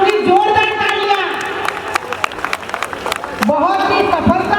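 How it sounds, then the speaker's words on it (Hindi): Audience at a Ramleela stage performance claps and cheers loudly and steadily throughout, a dense crowd sound with brief louder bursts, while a voice carries on over it. "मैं चाहूंगी जोरदार तालियां।"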